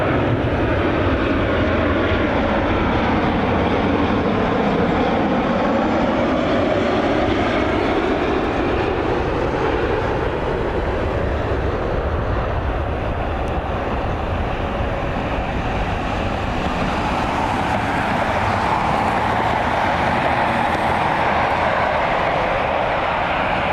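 Airplane landing at Cleveland Hopkins airport, heard outdoors as a loud, steady broadband engine roar with a slowly shifting whine that swells toward the end, no voices present.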